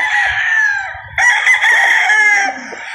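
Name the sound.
golden boy gamefowl rooster crowing at game farm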